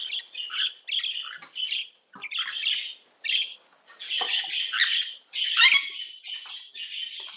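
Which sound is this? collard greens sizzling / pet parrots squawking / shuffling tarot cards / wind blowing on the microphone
pet parrots squawking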